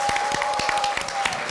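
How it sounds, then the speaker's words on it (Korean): Applause at a Korea University speaking contest, a short burst of dense clapping that fills the moment, with a steady tone running through it and no voices over it. "큰 박수 부탁드립니다"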